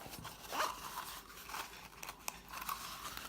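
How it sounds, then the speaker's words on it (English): A zipper on a TELESIN GoPro case is pulled open in a few short, crisp zipping bursts, quiet and close, with faint handling rustles between. "And what you do is you unzip this case"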